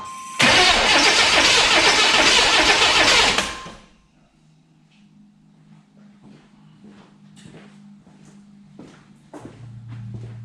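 A Buick Regal turbo engine with a misfire and a cylinder showing zero compression cranks over loudly and steadily for about three seconds, then stops, leaving a quiet workshop with faint clicks and a low hum.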